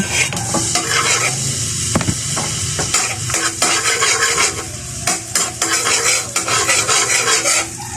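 Garlic and onion sauté in a pan for a mixed vegetable dish, with a constant sizzle under busy stirring, scraping and clinks of a utensil against the pan, close up.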